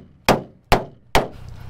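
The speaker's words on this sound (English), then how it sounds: "This is the bushing that is clanging and banging right here." Three sharp metallic clangs, evenly spaced, from a tool striking a loose, worn suspension bushing under a car; each hit rings briefly and decays, close and loud with no talk over them.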